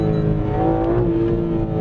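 BMW M3 engine with its variable exhaust open, revved and held at raised RPM, giving a loud, steady, smooth drone with no pops or crackles.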